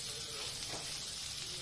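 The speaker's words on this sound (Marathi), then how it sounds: "बटर तळल्यानंतर मी त्यात लसूण घालते." Garlic sizzles in melted butter in a pan on a gas stove, a steady close hiss of frying throughout with no talk.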